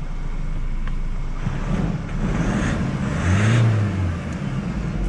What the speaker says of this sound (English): A couple of confirmatory revs,